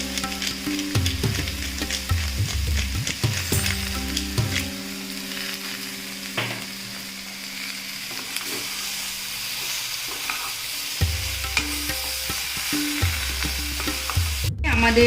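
Sautéed vegetables with salt and crushed pepper stirred in a pan over high flame, giving a loud continuous sizzle with rhythmic spatula scrapes and clatter that ease off midway and then return, close by and without talk.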